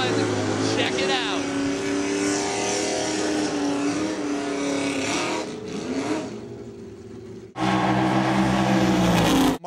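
Alcohol funny car engines roar loud and sustained at Maple Grove Raceway drag racing, a steady droning rumble that dips before another surge cuts in, with talk over it.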